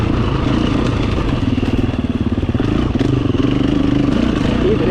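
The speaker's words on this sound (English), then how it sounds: "Good thing about the 350 or a four-stroker, I think it's the engine braking." A 350 four-stroke enduro motorcycle engine braking on a dirt track, a loud, close, steady low-pitched engine drone with a throbbing, pulsing rumble and some clatter throughout, running alone without talk.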